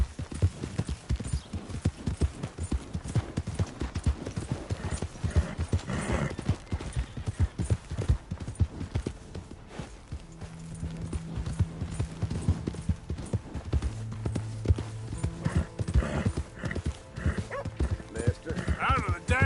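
Horse hooves clip-clop in a steady rhythm in Red Dead Redemption 2 while game music and voices play over them, with a brief dog bark and a horse whinny in the mix.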